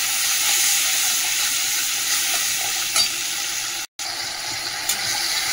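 Tomato, green chili, turmeric and salt sizzle and fry in a pan with a steady close hiss, a couple of faint stirring clicks and a brief dropout partway through.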